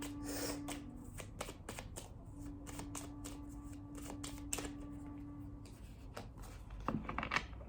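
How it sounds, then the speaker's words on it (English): Tarot cards shuffled by hand in a steady run of crisp riffling flicks and soft slaps, close and fairly quiet, with a low steady hum underneath and no talking. "let me now draw the tarot card to go with this message"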